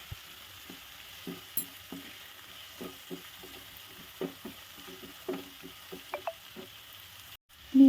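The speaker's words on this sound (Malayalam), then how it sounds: "ഇതിലേക്ക് 2 പച്ചമുളക് കൂടി ചേർത്ത് കൊടുക്കാം." Green chillies dropped into a hot pan with oil, ginger and mushroom-chilli base, giving a quiet, steady sizzle with soft irregular clicks and stirring taps, close up with no talk.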